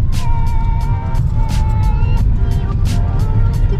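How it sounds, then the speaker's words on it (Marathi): Road traffic crawls in a heavy jam, a loud, constant low rumble of engines with short repeated bursts and drawn-out tonal notes layered over it, all close by. "लागलंय आम्हाला ट्रॅफिक जाम"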